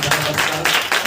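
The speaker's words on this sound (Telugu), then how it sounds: "చప్పట్లు కొట్టి" An audience at a Telugu Christian sermon breaks into brief, dense clapping, loud and close, in a few quick surges over about a second.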